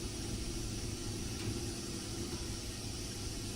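A steam locomotive's injector feeds water into the boiler with a steady, rushing, toilet-flush-like hiss and low rumble, continuous and fairly close, with no talking over it.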